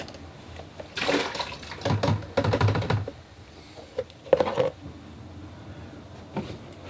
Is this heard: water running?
yes